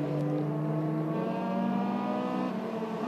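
A Mercedes-engined Dallara Formula 3 race car, Red Bull-backed, runs on track in the 2005 Euroseries, its high engine note climbing steadily through the revs, loud and close, with no other sound.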